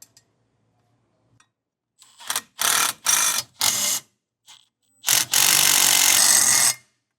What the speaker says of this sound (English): Now we'll tighten that down in a star pattern with our 9/16 socket and wrench